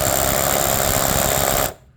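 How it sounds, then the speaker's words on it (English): A hammer drill bores by hand into a 12-inch concrete-filled wall, a loud, steady, rapid hammering whir that runs close and continuous before cutting off abruptly near the end. "with a hammer drill by hand. And it takes a long time"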